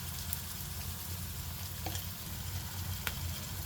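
Ginger-garlic paste, turmeric and spices fry in oil in a pan with green chillies for a kids' lunch box dish, a steady close sizzle running throughout with a couple of faint clicks, no talking.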